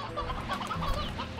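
Chickens cluck in the video game Slime Rancher, several overlapping clucks and soft calls sounding steadily and fairly close, with no talk.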